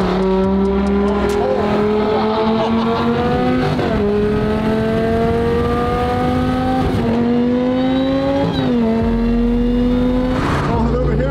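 A Lamborghini race car on full street tires laps a track, its engine droning loudly and steadily as revs climb, then dipping with gear shifts around every few seconds.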